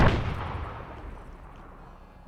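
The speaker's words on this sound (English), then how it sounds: "they're firing up on the ridge line, making sure there's no snipers up there." Gunfire crackles across a ridge line in a military video game, with a heavy booming burst up front, a rumbling decay that fades through the middle, and another sharp report right at the end.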